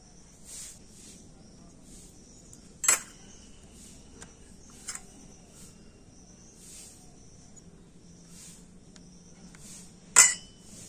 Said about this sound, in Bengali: ওই একইভাবে কাঁটা চামচ দিয়ে এইভাবে একটু ফুটো ফুটো করে দেব।